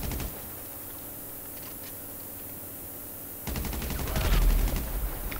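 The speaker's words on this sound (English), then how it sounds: "I stuffed the sniper. I'm using a machine gun." A hush of background game ambience breaks into loud, rapid assault rifle fire in GTA V Online. The close, rattling bursts start partway through and continue to the end.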